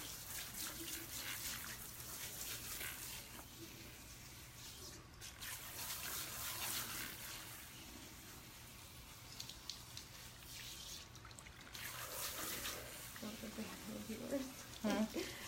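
Water runs and splashes as shampoo is rinsed out of a woman's hair, a soft continuous flow with a few brief louder gushes, quiet and close, with occasional voices in the background.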